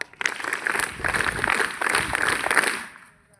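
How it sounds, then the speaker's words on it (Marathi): An audience at a school felicitation ceremony breaks into steady, dense applause for about three seconds before it tapers off quickly into quiet. "तुम्हाला जर जास्त कंटाळा आला असेल तर एकदा टाळ्या वाजवा."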